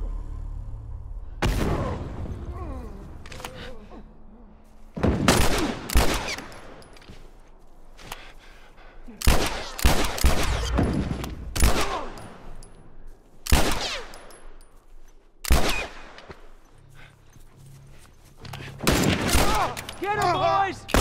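Turret gunfire in The Last of Us video game comes in sharp, loud bursts of rapid shots separated by quieter gaps, with occasional voices between volleys.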